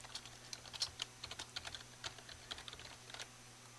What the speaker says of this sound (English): we type in game registry